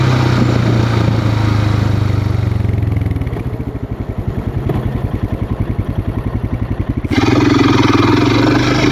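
A 2018 Royal Enfield Himalayan single-cylinder engine labours up a steep hill in low gear, its close, loud, steady drone shifting into a rapid pulsing thump midway before smoothing out again.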